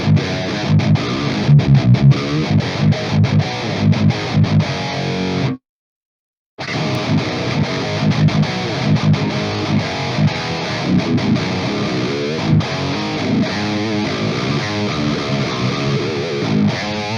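Heavy distorted metal guitar played through a Neural Amp Modeler amp capture with input driven hard and a noise gate, chugging riffs with sharp palm-muted stops, cut off by a brief gated silence before the riffing resumes.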